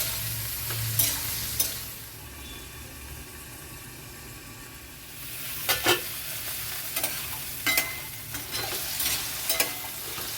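Potatoes and garlic fry in a pan with a steady sizzle, broken by bursts of scraping as a utensil stirs them. It is close and clear, with no voices.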